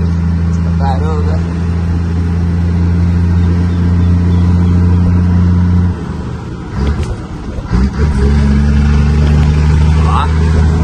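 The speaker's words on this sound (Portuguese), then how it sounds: "A sanfona tava quebrada aqui, daí o ronco não saía lá na ponteira, saía aqui embaixo." Car engine roaring loudly through a broken exhaust section, a steady close rumble that dips briefly and then builds again as the engine revs.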